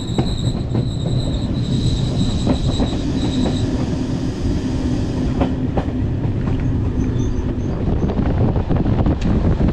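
A sleeper train on the line from Paris to the Pyrenees, a loud, continuous rumble of wheels on track with repeated clicks and thuds and a high squeal of the wheels fading in the first half.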